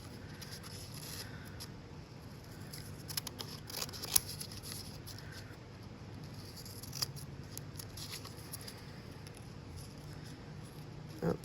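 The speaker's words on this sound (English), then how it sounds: "Take my scissors and trim anything that's not the Post-it so it doesn't go outside the square." Scissors make quiet, scattered snips as they trim paper around a Post-it note, faint and close, with soft rustling between cuts.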